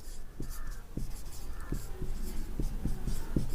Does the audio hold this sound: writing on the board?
yes